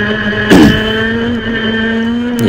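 A go-kart thrown sideways to heat its tyres, its engine a loud, close, steady buzzing drone with a sharp burst of scrabbling noise at one point as it slides.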